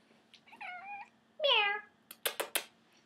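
A cat meows twice close by, the second call louder and longer, followed by a few quick rustling thumps.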